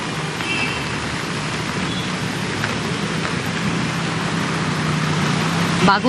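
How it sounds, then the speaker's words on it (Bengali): Torrential morning rain pours onto waterlogged Kolkata streets as a steady, dense hiss, with faint traffic and a voice speaking over the downpour. "শহর কলকাতায় সকাল থেকেই মুষলধারে বৃষ্টি"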